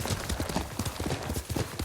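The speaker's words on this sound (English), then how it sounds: "Yuriko's horse. She can't be far." A horse's hooves clip-clop in the video game Ghost of Tsushima, a quick irregular run of close, muffled thuds, steady throughout, with faint speech in the background.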